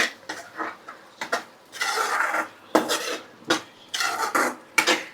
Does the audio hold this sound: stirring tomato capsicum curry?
yes